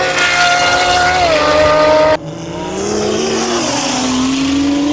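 A Nissan GT-R sports car revs hard with a rising engine whine, then cuts to a screech of squealing tires and another climbing rev, loud and close with no talk.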